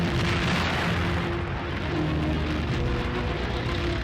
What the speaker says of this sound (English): So the barrage lasts hours.